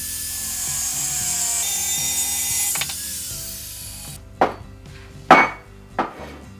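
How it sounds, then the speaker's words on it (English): Metal hooks being cut for a squat rack attachment: a sustained high mechanical whine with a grinding texture, then three sharp, loud bursts of cutting noise close by in a quiet workshop. "I'm going to cut them off, and they're going to be hooks."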